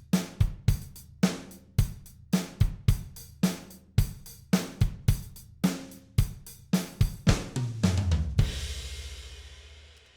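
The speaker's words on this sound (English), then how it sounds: "listen for is the hi-hat opening and closing a little bit" A programmed drum groove thumps in a steady rhythm of kicks and snares while the hi-hat opens and closes slightly. A crash rings out and decays near the end.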